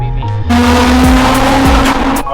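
A car is driven hard close by, its tires squealing in a long, loud, sustained screech over the revving engine, with a couple of sharp pitch shifts before cutting off.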